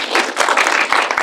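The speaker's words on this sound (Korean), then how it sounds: "입장하면서 박수 쳐주시는 관객분들은 처음 봤어요" A brief, close burst of audience clapping at a film Q&A screening for Paradise Is Burning, dense hand claps with a few sharp individual slaps standing out.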